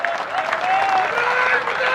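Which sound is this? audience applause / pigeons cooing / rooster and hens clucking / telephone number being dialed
audience applause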